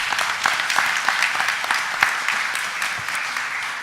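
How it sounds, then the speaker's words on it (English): Steady applause fills a Philadelphia City Council chamber during a stated meeting, sustained and moderately loud for the whole stretch with a few sharper individual claps standing out. "Give them all a round of applause,"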